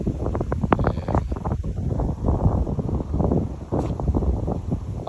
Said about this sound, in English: So stand this way so you're not getting the wind